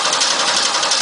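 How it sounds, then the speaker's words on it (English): A car's starter cranks the engine during a voltage drop test on the starting circuit, producing a loud, steady, buzzing whir that lasts the whole moment without pause. "Start the engine."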